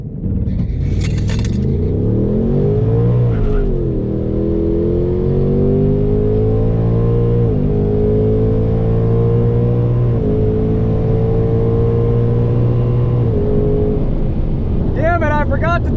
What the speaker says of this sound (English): third run of the night in the 2024 GT